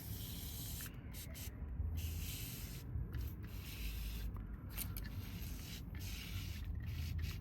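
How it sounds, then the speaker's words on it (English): Steady hissing spray from a can, mostly continuous with a few brief interruptions, close and fairly quiet. "I guess we just spray it on"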